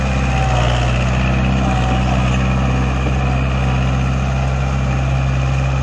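A Kubota MU4501 tractor runs with a rotavator attached, giving off a loud, steady engine drone with a strong low rumble that holds constant throughout, with no speech over it.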